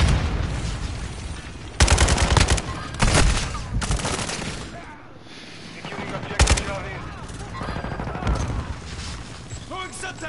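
Shotgun blasts in a first-person shooter video game, several loud, sharp bursts spaced a second or two apart against a busy background of other gunfire, with someone speaking between shots.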